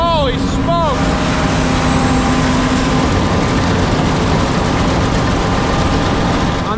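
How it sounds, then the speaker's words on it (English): A combine harvester's heavy engine labours loudly and steadily while cutting through tall weeds, a thick low rumble filling the whole stretch, with a voice briefly heard over it. "you can hear that engine working"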